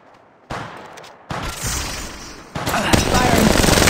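Rapid automatic gunfire in the video game Apex Legends Mobile, loud bursts starting in stages and building into a sustained fusillade.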